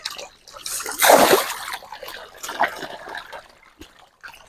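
Fish feed dropped into dirty aquarium water, giving a small splash and trickling, dribbling water sounds, close and moderately loud, with faint background noise.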